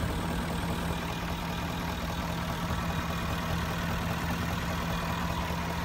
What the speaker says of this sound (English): There she is in all her glory, the 5-liter V8.